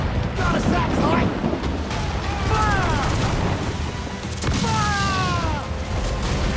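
Mortar and cannon fire in Assassin's Creed Black Flag rolls on as continuous loud, heavy booms in a dense naval battle, with falling whistles of incoming shells cutting through and voices shouting over the din.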